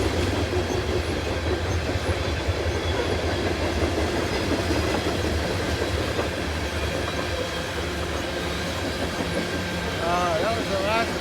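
A train rolls past steadily and close, with a continuous rumble and clatter of wheels on rail through the whole stretch, and a short horn-like toot near the end.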